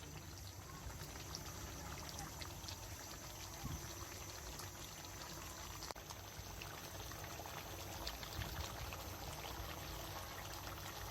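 Broth poured into a pot of Bengali desi chicken curry after the meat is browned, a faint continuous pouring and trickling that runs steadily for about eleven seconds with no talking.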